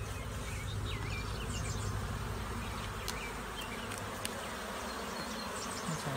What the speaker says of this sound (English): there's bees falling down in there because they're hanging on the top.